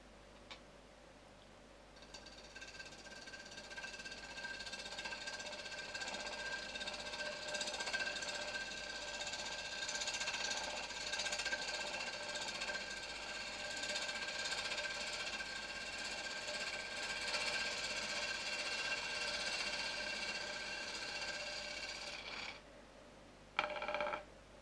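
A wood lathe spins at roughly 1000 rpm while turning a bowl, giving a steady faint mechanical drone with a thin whining tone that runs almost the whole time and stops near the end.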